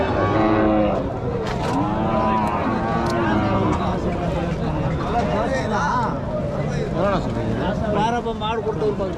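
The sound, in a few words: bulls at cattle market mooing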